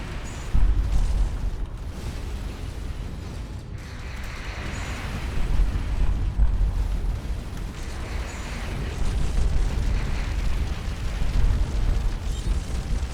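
Spaceships explode in the space game Starcom Nexus with loud, deep rumbling blasts and booming bursts layered over a continuous roaring background, without speech.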